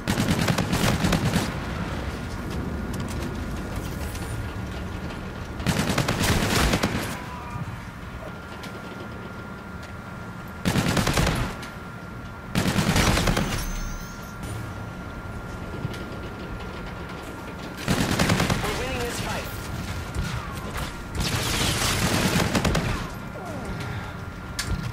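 Bursts of automatic fire from an NV4 Flatline rifle in a shooter video game, several sharp sustained volleys separated by quieter gaps, loud and close.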